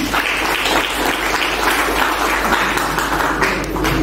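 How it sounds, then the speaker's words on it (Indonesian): Audience applause at a university faculty graduation (yudisium) ceremony, a steady dense wash of clapping that holds evenly through the whole stretch without a break. "Tepuk tangan semuanya."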